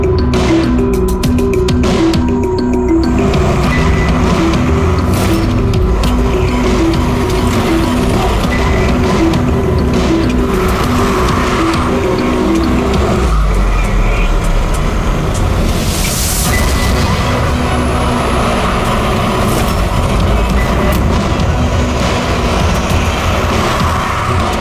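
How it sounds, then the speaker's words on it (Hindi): A car speeds away on a busy road, its engine noise loud and continuous and mixed with steady traffic rumble. "अबे वो गाड़ी में भाग रहा है"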